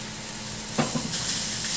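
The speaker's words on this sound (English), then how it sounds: "let's get these steaks on there" Seasoned steaks on a hot SilverFire grill give off a steady, close sizzle, with a sharper burst of crackling as the meat hits the grate partway through. A broad hiss continues after it.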